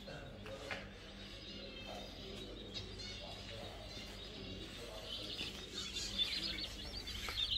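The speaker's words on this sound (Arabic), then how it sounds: "طبعا في طيور الحب كمان" Lovebirds on a private farm keep up thin, high chirps and tweets, soft and somewhat distant, over a steady low background rumble that grows slightly busier toward the end.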